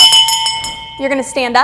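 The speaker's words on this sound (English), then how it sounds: "So when I ring the bell one time, you're going to turn towards the aisle." A hand bell is struck once as a classroom signal in a one-room schoolhouse, a bright ringing tone that sustains briefly before a teacher starts talking over its fading ring.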